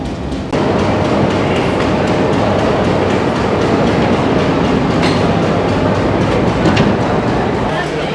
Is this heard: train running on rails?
yes